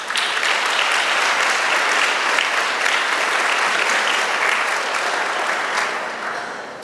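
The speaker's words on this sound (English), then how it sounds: "Give yourselves a round of applause." An audience at a convocation applauds in steady, dense clapping that holds loud and even for several seconds, then tapers slightly at the end.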